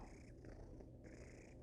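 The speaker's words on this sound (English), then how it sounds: "You're just gonna purr?" A small female cat purring softly while curled in a lap indoors, a quiet continuous rumble with gentle breath cycles, close and alone without talk.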